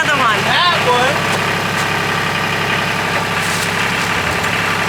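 An old engine cranks over and keeps running with a steady, rumbling idle throughout, close and fairly loud, with a brief higher whine near the start.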